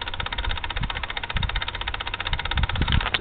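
A small motor runs steadily nearby with a rapid, even pulsing hum, and soft low thumps and knocks come through underneath.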